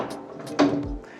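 A magic sliding bathroom cabinet door in a renovated 20-year-old apartment slides shut with one firm, close clunk and a brief rattle after a faint rustle, with no voices.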